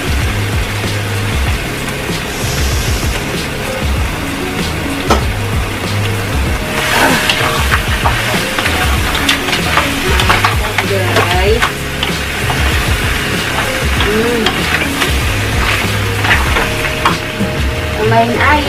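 Shrimp sizzle loudly in a hot pan while being stirred, a steady frying hiss with scraping and clattering of the utensil throughout.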